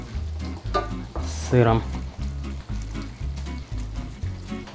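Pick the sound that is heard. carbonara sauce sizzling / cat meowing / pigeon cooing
carbonara sauce sizzling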